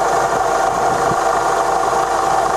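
A Fexac Model UG universal milling machine, made in Spain, runs in its fastest gear at 1400, giving a loud, steady mechanical hum with a faint rattle throughout, close by and without talk.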